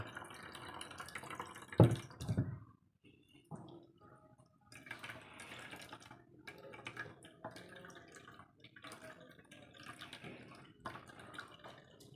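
Tamarind water for ginger-tamarind chutney is strained, with quiet trickling and dripping liquid close by, one brief louder splash early and then gentle running drips.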